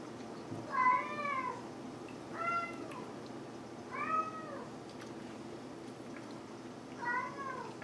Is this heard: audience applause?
no